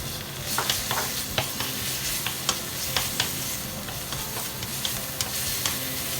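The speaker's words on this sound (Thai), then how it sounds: "พริกแกงต้องไปพัดนะคะ" Red curry paste stir-fried in a pan for a shrimp curry, with a steady sizzle and repeated scraping strokes of the spatula at a regular rhythm, close and fairly loud, no voices.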